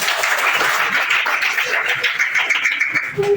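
Class 7B students applauding in a school classroom, a dense burst of many hands clapping together at close range for a few seconds.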